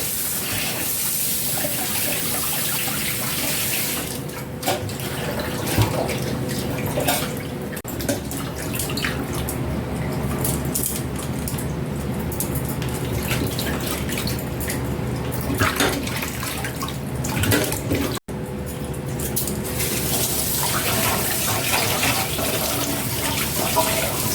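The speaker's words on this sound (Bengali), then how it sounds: "যত মাছ ধোয়া হবে তত মাছের স্বাদটা আরও বেড়ে যাবে।" A rohu fish is rinsed under a running kitchen tap, giving a steady, loud rush of splashing water that continues for the whole stretch with only one very brief break.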